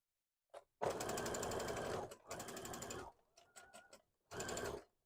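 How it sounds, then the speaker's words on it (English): A sewing machine stitches the upper body of an Avatar: The Last Airbender plush in loud, steady bursts, with a short tap, three long runs and a few brief clicks between them. "we're sewing up the upper body."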